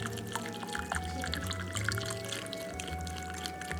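Beef broth pours steadily into a slow cooker for a pot roast, a continuous close liquid splashing and trickle with no talking.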